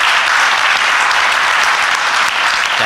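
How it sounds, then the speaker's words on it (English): A conference audience applauds at a valedictory function, a dense, steady wash of many hands clapping that fills the whole stretch without pause. "I think he needs a very big applause."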